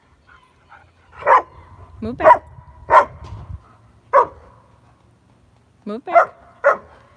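Dog barking during ball play, five or six sharp, loud barks at irregular intervals, spaced between a person's spoken commands.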